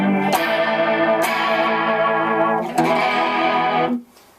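Electric guitar through a chorus pedal set deep for a warbly, wavering tone, chords ringing loud and sustained with a fresh strum near three seconds before the sound cuts off.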